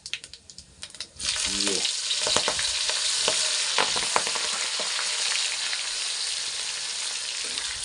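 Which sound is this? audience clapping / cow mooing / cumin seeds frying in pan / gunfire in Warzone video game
cumin seeds frying in pan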